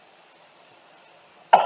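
A single short cough from someone with a cold, sudden and fairly loud after a quiet stretch, closing the moment without any talk.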